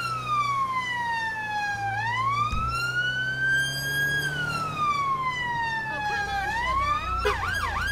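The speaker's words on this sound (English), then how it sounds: "I will leave the sirens on because we're pursuing someone" Police siren from a UK police mod in GTA 5, wailing continuously and loudly with slow rising and falling sweeps and a faster yelp near the end, over low engine rumble during a moped pursuit through a residential area.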